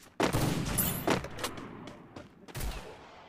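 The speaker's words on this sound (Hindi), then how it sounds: "ये हवा में गोली चला रहा है कहीं।" Gunfire from a mobile battle game sniper match, a few sharp separate shots, some loud and some distant, with someone faintly talking between them.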